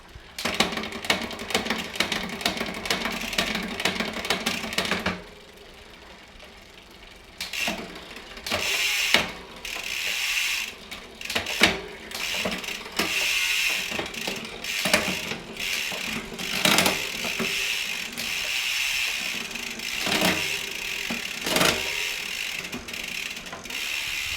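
Shimano Deore M6100 12-speed bicycle drivetrain with a 10-51t cassette clicking through gears: repeated ratcheting clicks and whirring mechanism noise, close and fairly loud, with a brief quieter pause early on.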